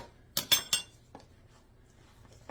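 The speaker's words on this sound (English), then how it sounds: "let me grab a spoon here" A spoon is picked out from among cutlery in a home kitchen while mixing egg, making three quick, bright clinks of metal in close succession, followed by a softer clink and quiet handling.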